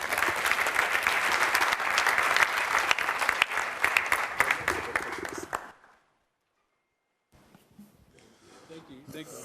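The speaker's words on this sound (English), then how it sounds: "you are not clapping well" An audience at the NSMQ 2025 quiz competition launch in Cape Coast, Ghana, bursts into loud, dense applause after a speech, clapping for several seconds before it cuts to silence, then quieter crowd noise returns.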